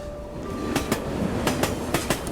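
A subway train in the video game Tokyo Dark rolls along with a steady rumble and a rhythmic clickety-clack of wheels over rail joints, close and continuous, with no talking.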